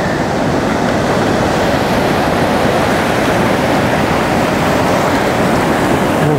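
Ocean waves crash on rock along a shoreline, giving a loud, steady roar of surf and spray that fills the whole stretch without a break.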